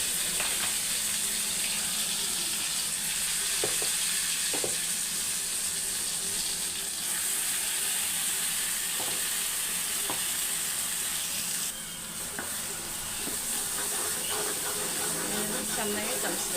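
Masala paste of onion, fresh coconut, tomato and garlic paste sizzles and fries steadily in a pan, with a loud continuous crackle and occasional scraping stirs throughout.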